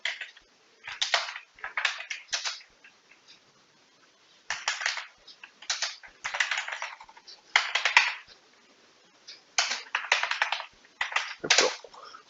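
Keyboard typing as company names are entered into a Microsoft Excel spreadsheet, heard as close, quick bursts of key clicks with short pauses between them.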